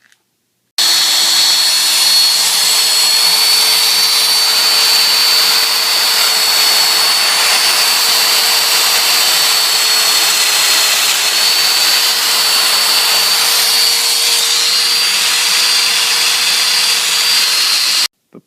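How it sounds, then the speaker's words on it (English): A Festool Domino joiner plunges into poplar board to cut mortises, a loud, close, steady whine that starts abruptly and runs unbroken for about seventeen seconds before cutting off. "The poplar just cuts beautifully with the domino."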